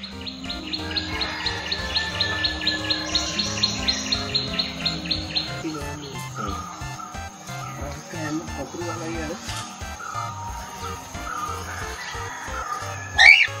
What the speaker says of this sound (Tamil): சன் கார்னியர்ன்னு சொல்லுவாங்க. இதுவும் பச்சை கிளி வெரைட்டி தாங்க.